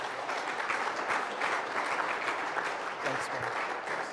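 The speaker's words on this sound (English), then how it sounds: "let's give a big round of applause then." An audience at a business conference session on marketing relevance and ROI applauds after the talk, a dense, steady round of clapping lasting several seconds with no voices over it.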